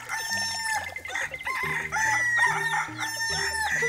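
A rooster crows repeatedly in a farmyard setting, the drawn-out calls ringing loud and clear over steady background music.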